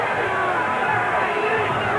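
A partisan boxing arena crowd roars steadily during a Frankie Warren vs. Gene Hatcher bout, a dense, continuous wall of cheering and chatter with a commentator's voice blended in.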